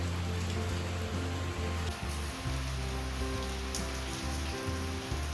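Steady rain falls and patters on a surface nearby, a constant soft hiss with a low hum underneath.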